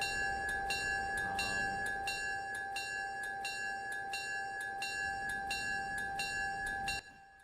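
A loud locomotive bell in the train game Railroader rings steadily and evenly for about seven seconds, then stops abruptly.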